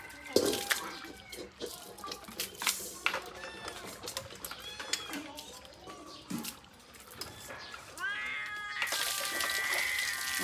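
A cat meows repeatedly in short, rising cries between clattering and splashing water, with quiet background murmurs and a louder, busier burst near the end.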